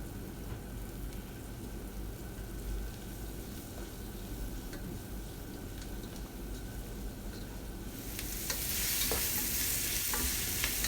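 Capsicum and green chillies stir-frying in a hot pan for restaurant-style chilli chicken, a steady close sizzle with scraping stirs that grows louder and brighter near the end.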